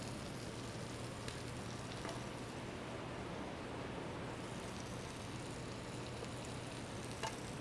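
A steak cooked sous vide at 132 degrees sears in a hot pan, giving a steady, dense sizzle throughout, close and even, with a few faint pops and no speech.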